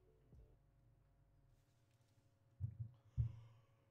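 A person yawns during a live NBA 2K22 gaming stream. The yawn is a faint, low, drawn-out breathy exhale with a couple of stronger huffs near the end, close to the microphone and with no talking.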